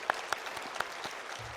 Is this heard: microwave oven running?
no